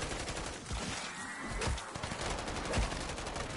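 Steady automatic gunfire fills a Call of Duty MWZ co-op round as players shoot cysts to clear an infestation, dense and continuous at moderate loudness, with no speech.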